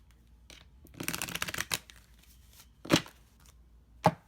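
A deck of tarot cards is shuffled close up, a rapid riffling burst followed by a few separate sharp card snaps and taps.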